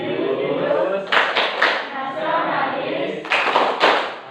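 Students in an Indonesian classroom perform the rhythmic PPK clap, with sharp bursts of hand claps in two clusters, near and fairly loud, between stretches of background talk and room noise.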